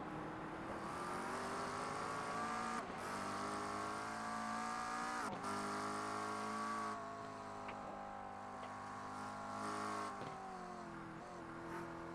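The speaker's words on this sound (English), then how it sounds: "There's a faster car approaching." Race car engine in a racing video game, a loud, high revving whine that climbs and drops through several gear shifts as it approaches, with brief cuts between shifts and no speech.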